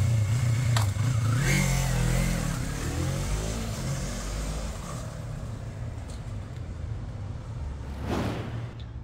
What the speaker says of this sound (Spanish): Bueno, ahorita Félix anda probando la moto, ¿verdad?